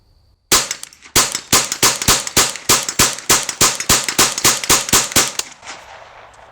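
A new 25-round rifle magazine fired for the first time: about fifteen sharp, loud gunshots in a quick, steady rhythm, each ringing out briefly before the next, ending with a fading echo.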